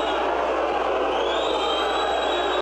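Crowd of taxi drivers booing inside a city council chamber, a dense, sustained roar of voices with a faint whistle-like tone drifting above it, steady and loud from start to finish.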